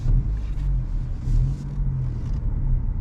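Inside a 2023 Honda Civic Si with a manual gearbox, the engine drones with a low, steady rumble while driving, pulsing slightly as the throttle changes, loud and close throughout.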